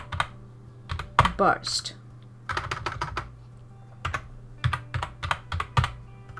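Uneven clusters of keystrokes on a computer keyboard, close and crisp, come in short typing bursts separated by pauses, with a voice speaking briefly between them.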